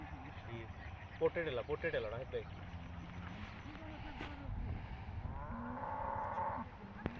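Cattle low now and then amid a noisy outdoor scene at a riverside cattle pasture at Baghabari Ghat, Sirajganj, with people talking nearby and occasional rumbling in the background.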